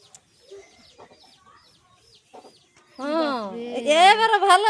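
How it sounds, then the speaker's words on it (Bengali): A chicken gives soft, faint clucks at first, then breaks into loud, drawn-out squawking calls close by that dominate the last part. "ধর মুরগি এসেছে"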